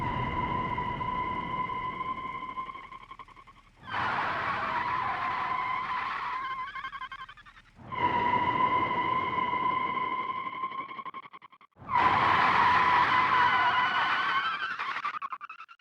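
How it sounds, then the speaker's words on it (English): Tyres skid loudly as the wheels lock up in the BeamNG Drive video game. Four long, shrill screeches, each lasting about three to four seconds, are heard alone with no talk. "where you won't have trouble noticing a difference is when the wheels lock up"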